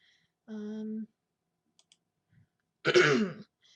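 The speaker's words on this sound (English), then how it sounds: "I'm clearing my throat a lot" Two separate throat clears in a quiet room, a short voiced one early and a louder, rougher one about two seconds later, with a few faint clicks between them.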